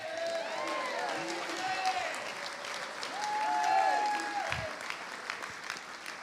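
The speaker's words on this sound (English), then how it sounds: "let's give a big round of applause for our Most Courageous Award winner" Audience at the 2023 USBWA basketball awards applauding the Most Courageous Award winner: steady, dense crowd clapping from a large room, moderately distant, with voices and cheers mixed in.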